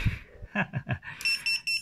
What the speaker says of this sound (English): The beeper is beeping